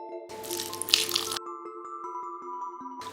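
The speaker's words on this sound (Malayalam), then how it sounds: "ഇപ്പം ഞാൻ ഒരു 1/2 കപ്പോളം വെള്ളം ഒഴിച്ചു കൊടുത്തിട്ടുണ്ട്." About half a cup of water is poured into a pan of simple tomato curry, a brief splashing rush that stops abruptly and leaves a quiet background hum.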